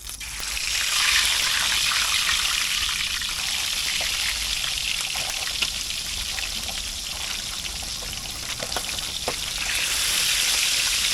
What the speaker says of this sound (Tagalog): prituhin mo natin itong bangus, papulahin lang natin bago natin isigang